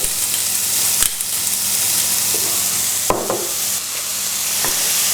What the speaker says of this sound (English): Now really with the onion mixture, we're going to be cooking this for about 10 minutes in total.